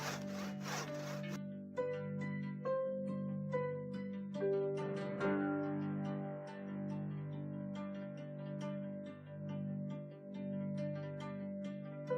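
A big saw cuts firewood for an off-grid cabin in harsh weather, giving rhythmic back-and-forth rasping strokes under steady background music that carries through the whole clip.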